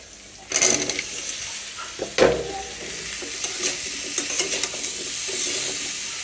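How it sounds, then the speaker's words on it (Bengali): Prawns with chili and turmeric fry in a pan with teasel gourd, a continuous sizzle broken by a couple of loud spatula scrapes and softer stirring knocks, with no talking. "চিংড়ি মাছ মরিচ তারপর হলুদ মরিচ সব কিছু এখানে ভেজে নিচ্ছি একটু এখন কাঁকরোল দিয়ে একটু কষিয়ে নেব"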